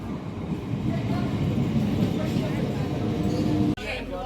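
A crowded local passenger train stands at a station platform, giving off a loud, steady rumble with a low mechanical drone and faint crowd murmur that continue unbroken before a sudden cut near the end.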